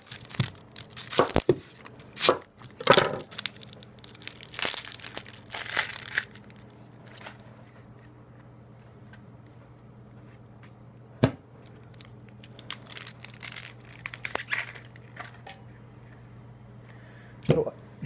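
A Teruyasu Fujiwara 210 kitchen knife slicing through an onion, a series of crisp crunching, tearing cuts in irregular bursts close up, spaced by quieter pauses with a low steady hum underneath.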